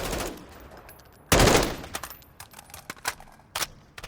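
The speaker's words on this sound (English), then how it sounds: "Check out this M4. Shoots pretty flat." An M4 rifle in Call of Duty Modern Warfare III lets off a loud burst of shots, then several sharper single shots spaced apart, close and crisp, with no one speaking.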